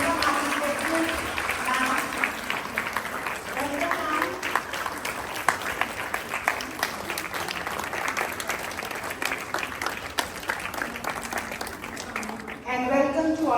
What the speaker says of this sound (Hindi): बच्चे तालियां बजाकर टीचर्स का स्वागत करते हुए।